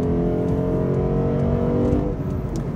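A 2022 Lexus IS500 with a V8 and eight-speed automatic accelerating at full throttle, a loud, steady, rising engine roar heard close and alone.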